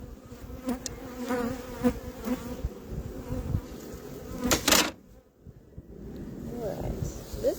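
Honeybees buzz around an open hive during a nuc installation outdoors, a continuous close insect hum with wind and handling noise, and a brief sharp rustle partway through.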